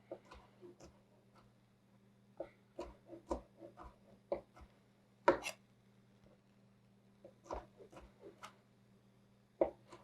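Shrimp being chopped by hand with a knife for wontons, sharp irregular knife strikes on a cutting board in short bursts with pauses between, close and fairly quiet over a steady low kitchen hum.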